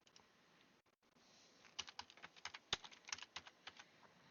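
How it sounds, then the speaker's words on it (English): Rapid keystrokes on a computer keyboard during a flight-simulator session, starting faintly and then becoming a quicker, louder run of sharp clicks over the second half, with no talk. "Good typing, Greg."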